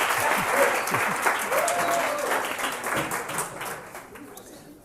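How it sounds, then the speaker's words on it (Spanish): Audience applause for a guest named Andreas at a business lecture, dense clapping throughout with scattered voices and chatter mixed in, fading slightly toward the end. "Un aplauso para Andreas."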